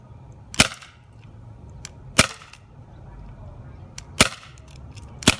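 WinGun 708 pistol firing four sharp shots spaced roughly a second or more apart, close and loud against a quiet background.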